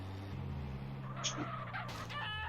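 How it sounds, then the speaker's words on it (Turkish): An excited pet bird chirps indoors while GTA San Andreas plays in the background. A burst of shrill, warbling calls rises in the second half over a steady low hum. "bizim kuş coştu. Umarım sesi çok gelmiyordur."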